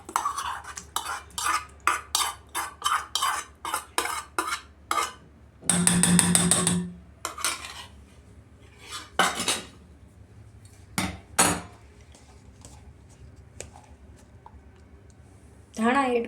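A spoon scrapes and clicks against a bowl as tempering is stirred into dosa batter, a run of quick taps followed by scattered knocks, with a person talking.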